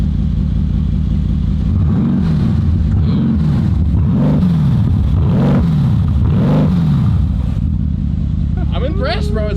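Loud engine of a 1200-horsepower Mercedes-AMG build running on downpipes only with no exhaust, revved in several rising and falling sweeps over a deep idle rumble, close up.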